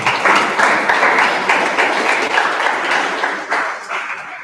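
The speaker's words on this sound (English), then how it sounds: "Let's give a big round of applause." Applause from the audience at an all-India debate competition after a speaker finishes, a steady wash of many hands clapping, fairly loud and unbroken, with no voices over it.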